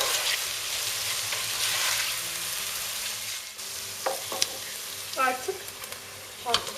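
Peppers sizzle in a frying pan with onions, a steady close hiss of frying with occasional spoon stirs and scrapes, while a voice speaks briefly over it.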